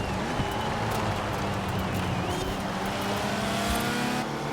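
Race car engine in Forza Horizon 4 droning steadily and loudly at high revs with shifting pitch and a faint tire squeal, continuous for the whole stretch.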